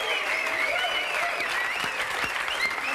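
Studio audience on a French television talk show claps in a sustained, even burst of applause throughout, fairly close and dense with no talk over it.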